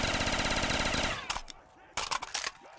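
Rapid automatic gunfire from a pack-a-punched weapon in Call of Duty Zombies rattles loud and continuous for about a second, then breaks into a few scattered shots and bursts.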